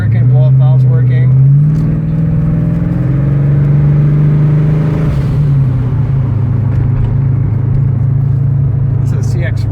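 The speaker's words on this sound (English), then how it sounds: "Definitely it's making boost, so everything's working, blow-off valve's working." A 900-horsepower CX Racing twin-turbo GT35 kit on a Ford Foxbody pulls hard under 8 psi of boost. The loud, close engine drone rises steadily in pitch with a blow-off valve whoosh, and talk runs over it throughout.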